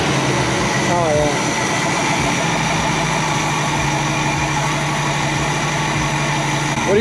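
A 1967 Ford Mustang engine idles smoothly after a carburetor cleaning, a steady low rumble with a faint whine running throughout, close by, while people talk over it.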